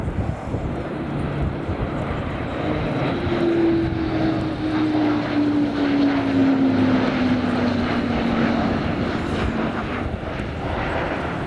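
An Airbus A400M military transport plane flies past at an air show, its turboprop engines producing a loud, sustained roar with a steady propeller drone that slowly falls in pitch as it passes.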